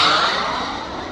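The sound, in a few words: CARF Models F-4 Phantom RC jet flying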